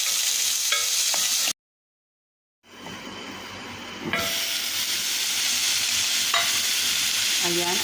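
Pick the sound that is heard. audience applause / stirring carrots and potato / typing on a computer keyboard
stirring carrots and potato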